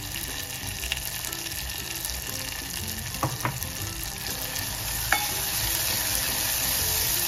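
Oil sizzles steadily in a pan of drumstick (shevga) curry with tomato and homemade black chilli powder, with a few spoon scrapes and a brief splash of water near the end.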